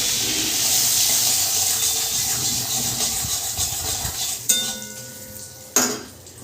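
Two bay leaves and a little sugar hit hot oil in a pan, giving a busy close sizzle that fades and is followed by two sharp metallic clinks of a utensil against the pan, without speech.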